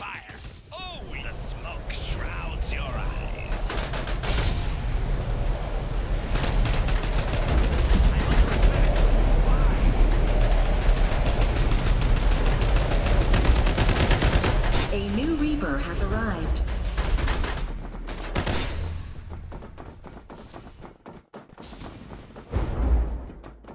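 Dense, rapid gunfire from the mobile shooter game Farlight 84, with bursts of automatic fire and thuds running continuously at close range, a voice speaking briefly near the end.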